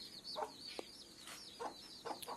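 A Thalassery chicken gives several short, separate clucks at an uneven pace, close and moderately loud. Thin, high bird chirps sound steadily behind them.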